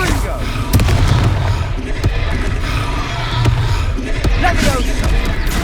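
Fiery Confringo spell blasts in the Hogwarts Legacy video game on PS5 erupt as repeated loud booming impacts and crackling bursts, dense and continuous with battle noise.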